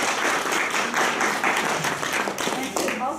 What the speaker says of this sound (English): give another round of applause for the artists